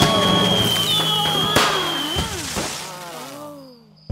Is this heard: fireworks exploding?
yes